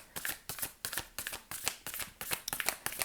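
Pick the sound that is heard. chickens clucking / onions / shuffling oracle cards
shuffling oracle cards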